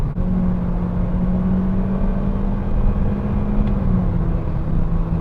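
A 2020 Honda Civic Sport with paddle shifters is floored, its engine giving a steady, loud droning hum with a low rumble from inside the cabin, the pitch holding roughly level throughout with no talking.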